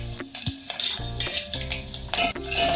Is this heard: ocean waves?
no